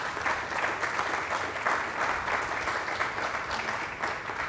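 An audience at a hospital outpatient surgery center groundbreaking applauding steadily, a dense, sustained patter of many hands clapping throughout with no break.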